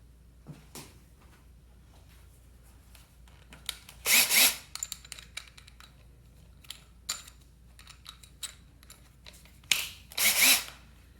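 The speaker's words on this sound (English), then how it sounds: "So I'm going to drill. I'm going to use this kind of drill to start with." Two short, loud bursts of a power drill whirring as it bores into a wooden Marlin 795 rifle stock, separated by quiet stretches with faint rustling and handling noises.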